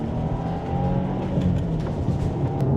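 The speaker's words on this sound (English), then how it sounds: "Man, this car does pull hard when you get in the upper RPMs." A car accelerates hard in second gear during a Golf R versus Subaru WRX drag race, its engine a loud, sustained, rising roar close by, high in the rev range, with faint road and wind noise.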